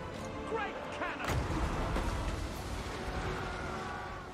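Gunfire crackles in a Total War: Warhammer II battle, a few sharp shots and thumps over a busy wash of game noise, moderately loud.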